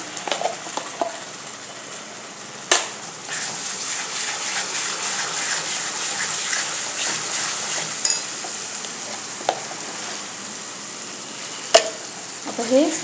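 Masala for Kolhapuri mutton gets stirred in an oily pan, making a continuous close sizzle broken by sharp spoon scrapes and clanks against the pan. No one speaks.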